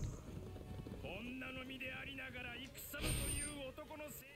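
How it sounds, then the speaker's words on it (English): Horse galloping in the video game Berserk and the Band of the Hawk, rhythmic hoofbeats running under game music and effects, with a brief louder burst partway through. "Let me get the horsey."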